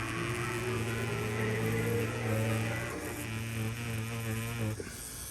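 A tattoo machine needle drives into fake practice skin, giving a steady, close electric buzz with a constant hum that holds throughout and cuts briefly near the end, with no talking.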